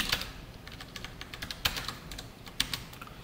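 Rapid key taps on a computer keyboard while code is written for a C programming lesson, a close and steady clatter with a few louder strokes and no talking.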